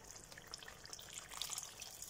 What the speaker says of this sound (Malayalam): കുറച്ച് തിളപ്പിച്ച വെള്ളം ഞാൻ ഇതിലേക്ക് ഒഴിക്കുകയാണ്.